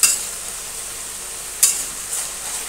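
Potato and ridge gourd with salt and turmeric get stirred in a pan: a soft, even sizzle broken by three sharp spoon scrapes against the pan, the first and second loudest.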